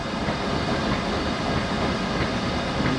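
A cammed VR6 engine in a VW Rabbit turns over on its first start, a dense, steady mechanical churn with a constant rhythmic rattle and no voices.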